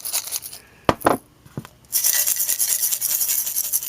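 Non-magnetic MLCC capacitors clink against each other with a dull, dead, lead-like tone: a few sharp, close taps, then a steady rustling scrape as the parts are shuffled together.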